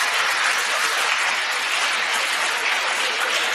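Audience applause at a Kannada stand-up comedy show by Pranesh: a dense, steady wash of many hands clapping, sustained at an even loudness throughout with no pauses and no voices.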